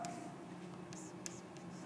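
Chalk or marker scratching on a board during a mathematics lecture, faint and brief, with soft strokes against a steady room hiss.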